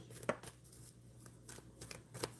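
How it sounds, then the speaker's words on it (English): Tarot cards riffle and snap in a few quick, crisp bursts close by, separated by quiet pauses. "Let me just shuffle these, Carol."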